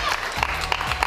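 Short burst of studio audience applause on a television show, dense clapping with a voice over it.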